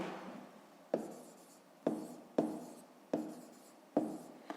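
Pen on paper during a fifth-grade maths lesson, a series of short scratchy strokes, each starting with a tap and fading, about six in a steady rhythm, close and quiet.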